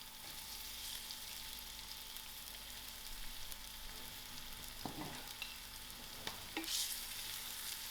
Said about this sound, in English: I'll allow these onions to fry till it's golden brown